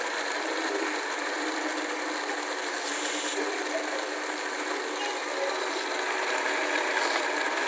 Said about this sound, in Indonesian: Ya, kita mulai blender.